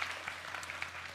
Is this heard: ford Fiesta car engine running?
no